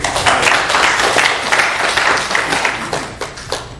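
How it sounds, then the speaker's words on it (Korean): A church congregation claps together during a Sunday worship service, with steady, dense applause sustained throughout at close range. "우리 하나님께 영광의 박수"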